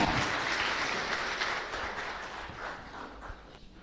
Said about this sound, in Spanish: Fuerte aplauso para nuestro santo patrono.